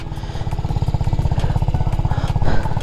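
A TVS Apache RR310 sports motorcycle rides in first gear, its engine pulsing with a loud, steady, rapid low thump close by and a faint mechanical clatter throughout.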